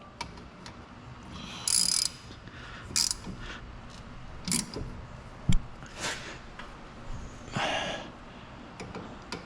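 A hand ratchet snugs the two brake caliper bolts on a 2010 Hyundai Santa Fe during a brake pad change, giving scattered, close clicks and short bursts of ratcheting with quiet gaps between.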